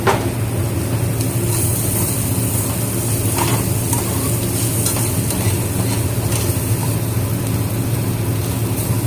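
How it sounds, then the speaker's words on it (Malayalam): Small chopped pieces of ginger and garlic fry in oil over low heat for a prawn roast, making a dense, continuous close-up sizzle with light scraping of stirring and no talking. "തീ കുറച്ചിട്ട് കുറച്ച് നന്നായിട്ട് മൂക്കണം കേട്ടോ"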